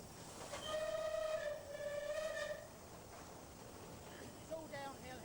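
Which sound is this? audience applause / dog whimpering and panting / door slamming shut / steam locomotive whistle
steam locomotive whistle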